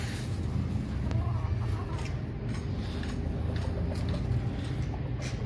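Hens eating feed in a winter poultry yard, giving soft scattered clucks under steady broadband outdoor noise, with faint pecking ticks and no clear talk.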